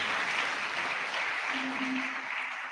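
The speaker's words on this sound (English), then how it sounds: "Oh, please, let's applaud them if they are here." An audience at an inaugural lecture applauds in a steady wash of many hands clapping, fairly close and even throughout, with a brief tonal hum partway through.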